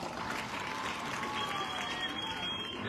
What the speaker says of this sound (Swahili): Haya, opigiwe makofi tena.